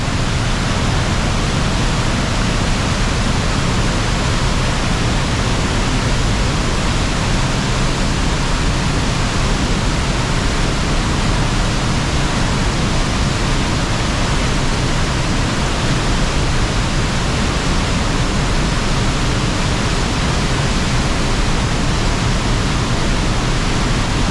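Water gushes out fast in a constant, loud, hissing roar that holds steady and unchanged for the whole stretch, with no talking.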